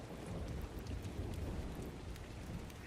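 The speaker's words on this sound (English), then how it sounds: "and it has been raining a while." Rainfall in the video game ARK: Survival Ascended makes a soft, continuous wash of drops with a low rumbling undertone. It stays faint and even throughout, with no voices.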